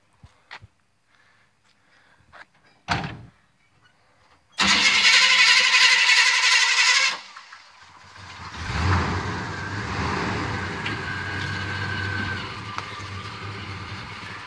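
A 1977 GMC truck engine cranks and catches after a few faint knocks, roaring loudly for a few seconds, then settles into a steady running rumble as the truck pulls into a garage, with no talk.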